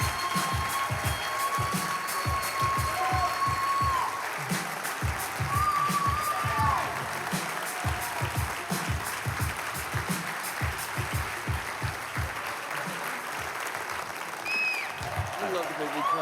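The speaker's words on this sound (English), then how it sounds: "Give Chad and Lenny a round of applause." Audience applause at a motivational event, sustained dense crowd clapping over the full stretch with rhythmic, almost unison beats, loud and continuous, with a bright tone briefly sounding over it.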